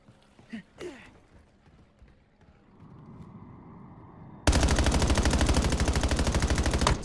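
Rapid automatic gunfire in the video game Black Ops Royale bursts in loud and dense, a steady stream of shots following a quieter stretch of game ambience with a few thumps and faint talk.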